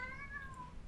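A house cat gives one short, faint meow, begging as sushi comes out of the fridge, set against a low indoor room hum.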